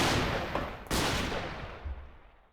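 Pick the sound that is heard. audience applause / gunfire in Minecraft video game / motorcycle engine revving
gunfire in Minecraft video game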